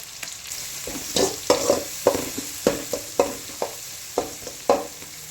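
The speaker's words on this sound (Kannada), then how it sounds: "ಈರುಳ್ಳಿ ಒಂದು ಸ್ವಲ್ಪ ಲೈಟಾಗಿ ಫ್ರೈ ಆಗಬೇಕು." Onions and cumin frying in oil for a restaurant-style drumstick curry, a soft sizzle broken by about a dozen rhythmic scraping stirs of a spatula across the pan, close and clear, no talking.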